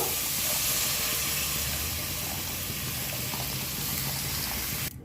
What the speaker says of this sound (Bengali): এবার সব কিছুকে একসঙ্গে কিছুক্ষণ একটু ভেজে নেব